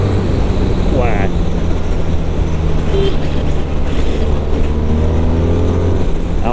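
A BMW R1300 R motorcycle riding above 3,000–4,000 rpm, its engine a loud, steady drone mixed with heavy wind rush, continuous and close throughout.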